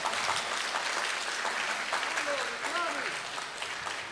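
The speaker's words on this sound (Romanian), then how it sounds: "Dacă vă aplaudați acum, sunt aplauzele voastre." Applause from an audience at a comedy roast in a theatre fills the clip, a steady wash of clapping with some voices and whoops rising over it.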